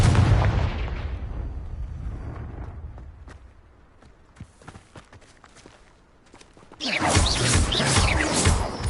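A Confringo fire spell explodes in Hogwarts Legacy: a loud, low blast that decays into scattered crackles and taps, followed by a second dense, bright burst near the end.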